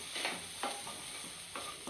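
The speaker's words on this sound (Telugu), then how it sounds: "తీసుకొని కొత్తిమీరలో వేసుకొని ఒక two minutes three minutes fry చేసుకోవాలండి" Tamarind and coriander leaves frying in a pan, a soft steady sizzle with a few faint stirring scrapes, quiet and close, no voices.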